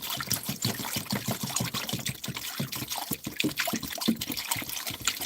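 Water is dumped from a container into a tray for a recirculating water system, a continuous close splashing pour with bubbly, uneven trickles throughout.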